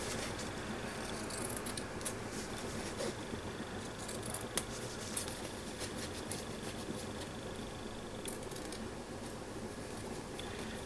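Scissors snip steadily through paper while a dress shape is being cut out, a run of soft, close crisp cuts with occasional sharper clicks over a faint background hiss.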